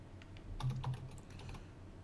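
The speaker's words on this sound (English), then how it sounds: "if you can hear me typing because I have a really loud keyboard" Quick keystrokes clatter on a loud computer keyboard, a short irregular run of faint clicks with no one talking.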